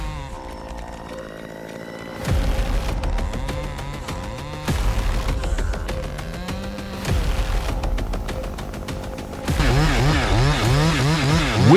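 A chainsaw works in forestry timber extraction. Its engine snarls loudly and revs up and down in bursts, with sharp shifts in pitch between the cuts.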